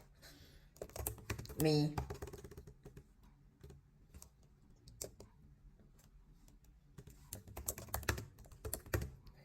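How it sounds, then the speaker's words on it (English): Typing on a computer keyboard: quick bursts of light clicking keystrokes, close up and fairly faint, come in uneven clusters, while someone speaks briefly near the start. "I'm going to type in something like this"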